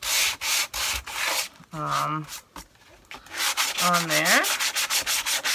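Sandpaper rubs back and forth along the sides of a painted wooden memo holder to distress it, giving a steady, close scratchy rasp in quick strokes that pause briefly while a voice speaks, then resume.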